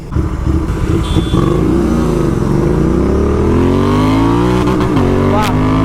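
A GT 650 motorcycle engine revs hard while being ridden, its loud, close growl rising and falling in pitch through several surges, with wind rush throughout.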